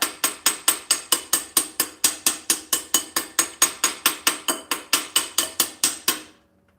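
Hammer tapping a bushing into a differential housing lobe: about two dozen sharp metallic strikes in a steady, even rhythm, close and clear, ending in silence.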